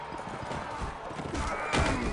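A horse in the battle game Mount and Blade gallops with rapid, close clip-clopping hooves and lets out a brief whinny near the end.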